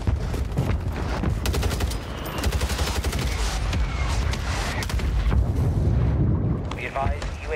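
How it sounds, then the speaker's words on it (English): A mortar strike in the video game Call of Duty Warzone lands as a dense, continuous barrage of booming blasts and rumbling gunfire, loud throughout and layered over one another. "Mortar support incoming. Solid. Mortar strike on the way."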